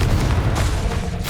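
Confringo explosive spell blast in Hogwarts Legacy, a heavy, rumbling boom with deep low-end weight that sustains loudly throughout and flares again near the end.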